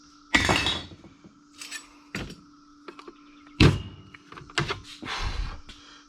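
Camping gear and equipment are set down on the ground in a series of scattered thunks, clinks and knocks, several sharp close impacts separated by brief quiet gaps.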